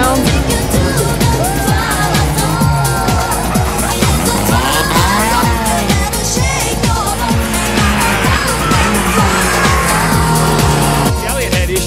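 A race car screams at full throttle on a track, its loud engine pitch repeatedly sweeping up and down through shifts and passes, with tire squeal mixed in and no talk.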